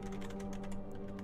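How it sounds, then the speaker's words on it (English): Keyboard typing during a live game-news stream, a steady run of quick close key clicks over a constant low background hum, with no voices. "you didn't let me finish typing it in"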